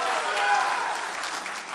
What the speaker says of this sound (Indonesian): Mari kita berikan tepuk tangan untuk seluruh pasangan calon